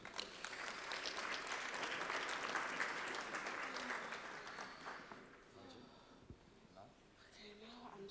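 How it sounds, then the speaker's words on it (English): Church congregation claps together during a service, steady close applause for the first several seconds that thins out and fades, with voices talking as it dies away. "Let's clap for Jesus."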